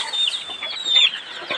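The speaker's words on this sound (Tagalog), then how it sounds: "Maraming manok dito si papa eh" Chickens clucking in a netted backyard coop holding over a hundred birds, busy overlapping clucks and squawks from several hens close by, with no talk.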